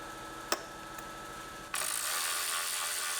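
Ratchet clicking while loosening bolts on a Silverado's throttle and cruise control cable bracket, a couple of sharp ticks followed by a steadier, brighter mechanical rasp.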